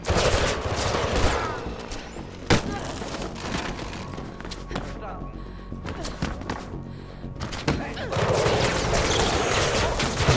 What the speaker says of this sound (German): Das sind ganz schön viele, die rumschießen.